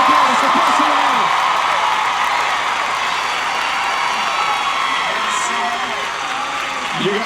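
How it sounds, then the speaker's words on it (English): Audience applause and cheering at a one-year anniversary show honouring a singing winner: a steady wash of crowd noise with scattered whoops and shouts, and voices mixed in throughout. "Round of applause for person who knows."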